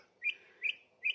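A song thrush sings three short, bright chirping phrases evenly spaced about a third of a second apart, clear and fairly close against a quiet outdoor background.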